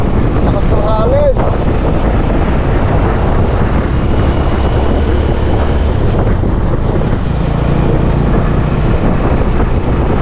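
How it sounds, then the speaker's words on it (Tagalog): Strong wind buffets the microphone outdoors in a steady, loud, rumbling roar that continues throughout, with a brief whistle near the start. "Lakas ng hangin."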